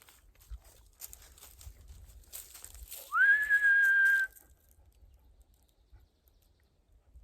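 One long, loud whistle from a person calling a dog outdoors, sliding up and then holding level for about a second, with soft rustles and steps around it.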